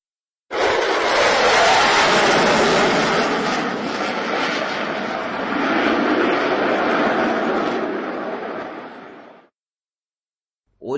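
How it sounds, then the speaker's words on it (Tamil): Supersonic aircraft roaring overhead, a loud, broad, sustained rumble that starts abruptly, swells and holds for about nine seconds, then cuts off, with no voices. "ஒலியை விடவும் உயர்ந்த வேகத்தில் பயணிக்கவல்ல விமானங்கள் மீ ஒலி விமானங்கள் எனப்படுகிறது."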